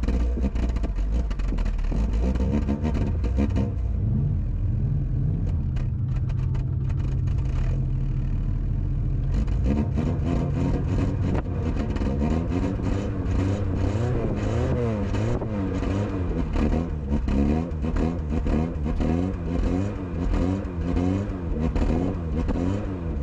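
A carburetted Volkswagen Golf 2 engine idles roughly, then is revved repeatedly from about halfway through, its pitch rising and falling in loud, close, uneven surges.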